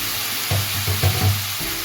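Chopped ingredients sizzle and fry in a hot pan as they brown for the gravy of a mutton liver dish. A loud, steady hiss runs throughout, with a few low clunks from stirring partway through.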